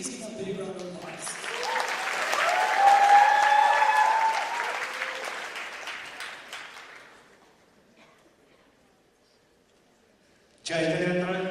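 An audience at a youth convention opening ceremony breaks into loud, sustained applause that swells, then fades away to near silence; a voice starts speaking at the very end.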